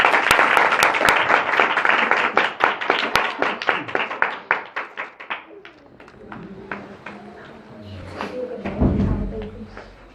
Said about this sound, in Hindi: मैं चाहता हूँ एक बार यस्सु के जलाल के लिए ज़ोरदार ताली।